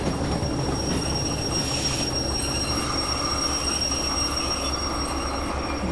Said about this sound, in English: So onto the train brake we go.